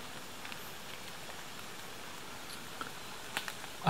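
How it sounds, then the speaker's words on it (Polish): Light rain dripping from jungle trees beside a small stream at a camp, heard as a faint, steady patter with a few scattered louder drops, no talking. "Troszkę pada, teraz już bardziej z drzew."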